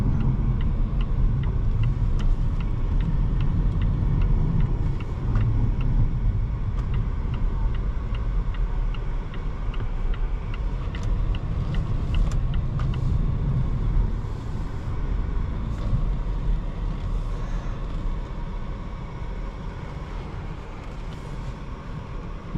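A 2020 Volvo S60 T8 Polestar Engineered drives and corners, its engine and road noise forming a steady, moderate drone with faint ticking, heard from inside the car and alone without voices.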